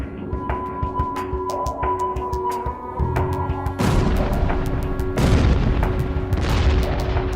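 Unguided iron bombs from the Vietnam era exploding in a war documentary: repeated booming blasts and sharp cracks over a steady rumble, growing heavier and louder partway through, with no talking over them.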